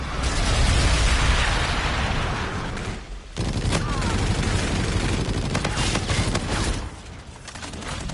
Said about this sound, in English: Friendly bombardment incoming.